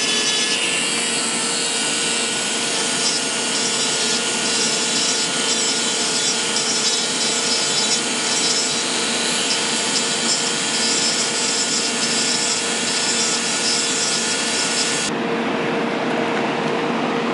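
Wooden stick being carved with a tool to cut a light groove, a continuous loud rasping scrape held close throughout, changing in tone near the end.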